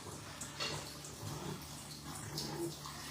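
Water runs steadily into a bathroom tub or basin while dogs are being bathed, a soft continuous splashing stream at moderate distance with faint background sounds and no clear speech.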